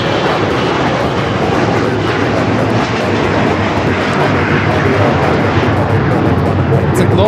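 A Bombardier Global 5000 business jet roars through its takeoff at LAX, a loud, steady broadband engine rush that holds for several seconds, with a voice talking over the noise.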